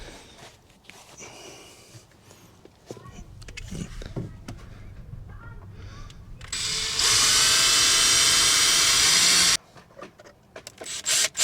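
A power drill drives self-tapping screws while a car phone mount is installed, heard as a loud steady whir lasting a few seconds after quieter handling noises and brief talk.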